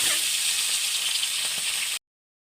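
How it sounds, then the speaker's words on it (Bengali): Turmeric-and-salt-coated eggs frying in hot oil in a wok, a steady bright sizzle and hiss with a few faint pops, close and continuous before cutting off abruptly. "এবারে একটা একটা করে কড়াই ছেড়ে দিচ্ছি।"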